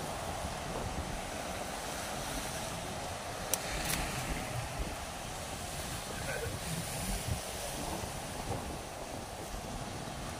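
Ocean surf pounding a shore in a steady roaring wash, with strong wind buffeting the microphone and a brief louder slap near the middle; a voice speaks faintly over the noise.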